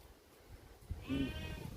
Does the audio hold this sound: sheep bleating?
yes